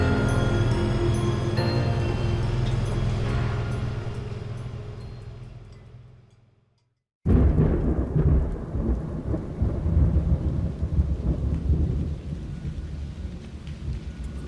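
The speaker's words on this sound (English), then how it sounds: "Rain, nothing but rain." Heavy rain pours on Mt. Washington during a hill climb race event, a loud dense roar with rumbling that fades out, cuts to silence, then resumes just as strong.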